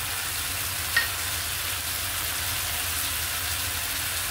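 Tomato bhaji sizzles steadily in oil in a pan with fried onions and green chillies, a continuous close frying hiss with faint stirring and one small clink near the start.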